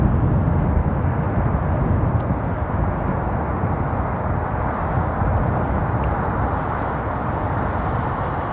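An airliner rolls for takeoff on Heathrow runway 27L, a broad, steady engine roar filling the whole span at constant loudness, heard from the cockpit without talk.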